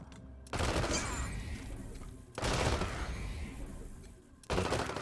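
Rifle gunfire in the video game Wasteland 3, three loud bursts of rapid shots separated by short pauses, each burst dense and sustained.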